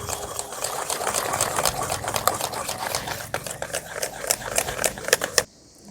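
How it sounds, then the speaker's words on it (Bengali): Semolina batter with sugar, baking soda and baking powder being stirred and mixed in a bowl, a steady run of quick rhythmic scraping and tapping strokes, close up, stopping abruptly near the end. "এবার সমস্ত উপকরণ খুব ভালোভাবে মিশিয়ে নেব।"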